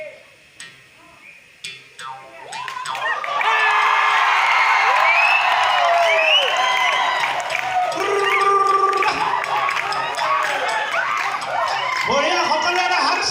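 Audience at a Bihu stage show in Golaghat claps and cheers. The loud, dense crowd noise rises after a few quiet seconds, with whoops running through it, and keeps going to the end.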